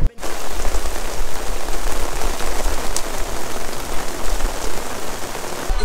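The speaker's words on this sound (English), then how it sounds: "Literally just started to rain." Heavy rain pours down steadily near Marseille, France, a dense close hiss of drops hitting surfaces, loud and unbroken.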